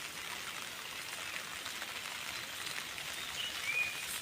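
Heavy monsoon rain falls over a tidal creek during a fishing outing, giving a soft, steady, even hiss throughout, faint and with no voices.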